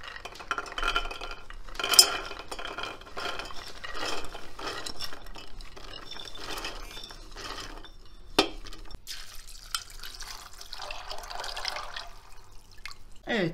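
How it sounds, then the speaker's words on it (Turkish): Soaked, drained dried beans clatter into a pot in the kitchen, a light rattling pour with scattered clinks and drips, fairly quiet and close, followed by a sharper knock or two. "Şimdi sularını süzdüm, tencereye koyup haşlamaya bırakacağım."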